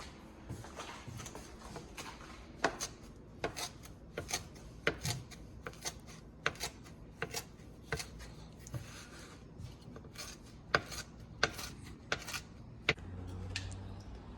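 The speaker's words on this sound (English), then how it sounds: "now that we've prepped our parsley, we're gonna begin chopping it up" A knife chops fresh parsley on a cutting board in a steady series of sharp, close taps, roughly one per second, with quiet gaps between strikes.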